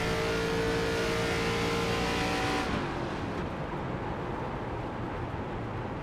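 Race car engine in the iRacing game, an ARCA Menards Series stock car at Twin Ring Motegi, loud high revving for under three seconds before dropping to a lower, rougher idle-like rumble with no talk.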